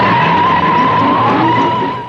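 A Volkswagen Beetle car drives along with a loud, steady engine drone that holds an even pitch throughout and fades slightly at the end. No voices are heard.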